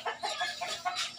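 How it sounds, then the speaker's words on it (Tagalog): Chickens cluck in a rural yard on a provincial afternoon, giving several short, soft clucks in quick succession at moderate distance. "Yung mga ibang mga manok,"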